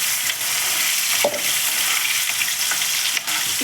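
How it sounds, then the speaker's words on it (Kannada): Onion and ginger-garlic paste fry in a pan, a steady loud close sizzle with occasional soft stirring scrapes and no voices. "ಹಸಿ ವಾಸನೆ ಹೋಗೋವರೆಗೂ ಚೆನ್ನಾಗಿ ಹುರಿಬೇಕು"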